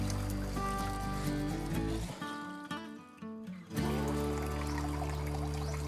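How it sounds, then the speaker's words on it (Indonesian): Water poured out of a plastic bag holding a new goldfish, a splashing trickle over a few seconds with a short quieter gap, set against a steady background hum. "Airnya kita buang saja."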